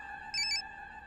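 A phone rings with a short electronic double trill over a steady background tone, brief and clear.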